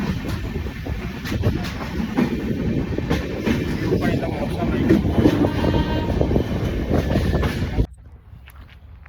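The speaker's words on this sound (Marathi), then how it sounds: "ट्रेन निघालेली आहे एकदम भारी." A passenger train on the Mumbai to Kudal Konkan route pulls out of a station, a loud steady rumble with wheel clatter under a person's voice, cutting off abruptly near the end.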